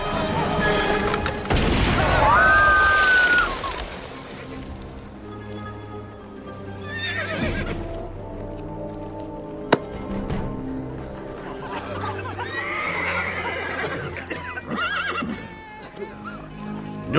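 Horses neigh loudly, with one sharp whinny early on, while hooves clip-clop under a busy outdoor scene, with scattered crashes and distant voices mixed in.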